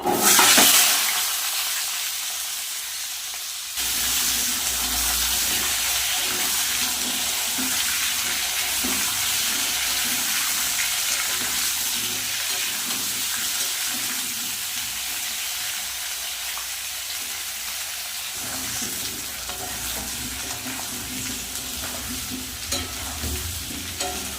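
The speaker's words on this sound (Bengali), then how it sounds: "সবার প্রথমে পেঁপে আর আলুটা ভেজে নেব" Papaya and potato pieces frying in oil in a pan, a steady, loud, close sizzle that hisses continuously throughout, with faint occasional stirring beneath.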